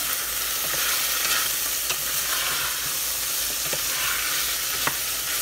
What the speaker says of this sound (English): It is frying now with the oil, and we don't want it burning.